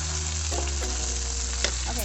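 Pasta goreng with cherry tomatoes and bell peppers sizzles steadily in a hot pan, with a few soft scraping stirs of the spoon breaking through the continuous frying hiss.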